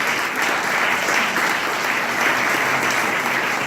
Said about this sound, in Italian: un applauso anche a loro per favore.